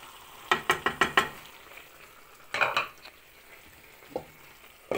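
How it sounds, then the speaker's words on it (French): Spoon stirring a pot of cockerel stew near the end of cooking: a quick run of five sharp scraping clacks, then a rougher scrape and one lone knock later, close and clear over a quiet background. "Et je vais remuer un petit peu, juste pour finir."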